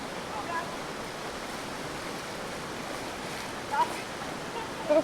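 A waterfall roars steadily as broadband rushing water, constant and fairly loud throughout, with no voices.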